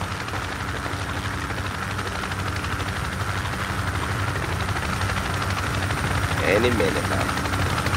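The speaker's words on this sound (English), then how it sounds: "Go into the chopper. Get in the chopper" Helicopter in the video game Project Reality, a loud continuous rotor and engine drone close by that stays steady throughout, with someone speaking briefly over it.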